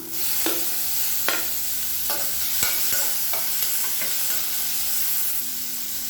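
Tomato and small onion sautéing in a pan for lady finger soup, a steady close sizzle with a few sharp spoon-stirring taps against the pan, no voices.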